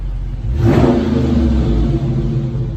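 The 6.4L V8 of a 2020 Dodge Charger Scat Pack, stock before a mid-muffler delete, revs up hard once, roaring loudly close by, then settles into a deep, steady rumble.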